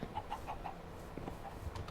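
A Minecraft chicken gives a quick run of four soft clucks, then a couple of fainter ones, heard alone against a quiet background.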